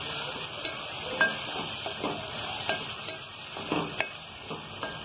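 Whole spices—ground red chili, a black cardamom, four cloves and a cinnamon stick—sizzle in hot oil in a pot for chana dal, with a steady frying hiss and scattered clinks and scrapes as they are stirred.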